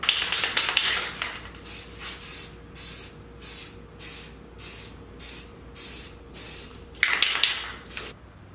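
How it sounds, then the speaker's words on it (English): An aerosol spray paint can hisses in a series of short, evenly spaced bursts, about a dozen in all, close and moderately loud, painting a bike trailer frame. "Now I'll just start putting a few layers of spray paint on it"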